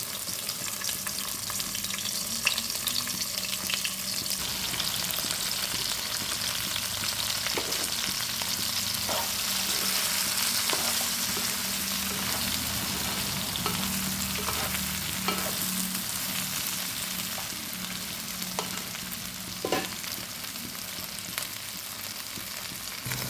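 Okra pieces frying in oil make a loud, continuous sizzle up close, with faint ticks and scrapes scattered through it and no voices.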